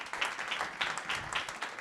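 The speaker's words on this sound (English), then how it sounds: "Big round of applause." A conference audience gives a round of applause, a soft, steady patter of many hands heard from a distance at a modest level.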